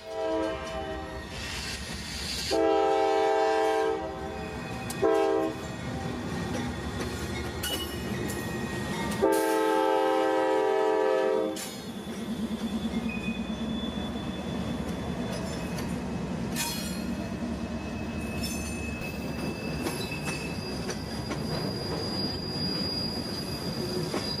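A CSX freight train rounding a connection track between rail lines, its wheels letting out loud, sustained metallic squeals in repeated tonal bursts over a constant rumble of moving railcars.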